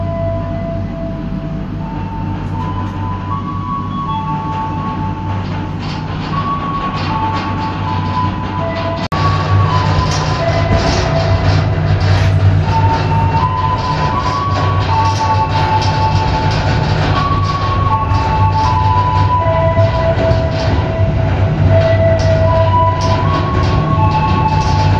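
Argo Cheribon passenger train pulling away from Haurgeulis station in Indonesia, a steady loud rumble of wheels and running gear that builds after about nine seconds, with faint high tones above, no voices.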